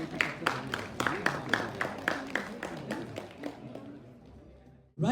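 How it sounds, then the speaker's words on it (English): An audience claps in a steady, rhythmic beat for a student team at a youth innovation conclave. About a dozen even strikes gradually fade over four seconds before a sudden loud burst of noise. "Please give a huge round of applause for them."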